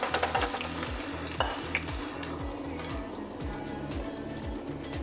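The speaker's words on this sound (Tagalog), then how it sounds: "iprito ang patatas at saka carrots at saka onion sa ating deep fryer" Potatoes fry in hot oil in a deep fryer with a continuous close bubbling sizzle, broken by scattered clinks and stirring noises throughout.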